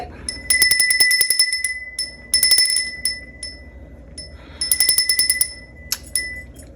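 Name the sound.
hand bell being rung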